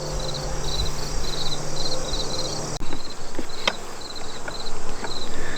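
Honey bees swarm around an opened nuc hive with cross-combed, honey-dripping frames, making a dense, continuous close buzz with pulsing high whines and a few small knocks, and no one speaks.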